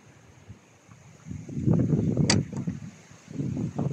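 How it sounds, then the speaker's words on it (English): Gusty wind rumbles against the microphone outside a church in East Brent, Somerset, swelling in low buffeting bursts with a brief higher hiss midway, then easing before another gust. "It's a little bit windy today"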